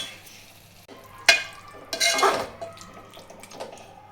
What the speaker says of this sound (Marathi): थोडंसं 5 ते 10 मिनिट मी मसाला चांगला चिकनमध्ये शिजवून घेणार आहे.